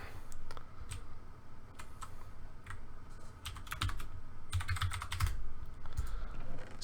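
Close, continuous typing on a computer keyboard, with rapid irregular key clicks in bursts and a denser flurry near the end, and no talk over it.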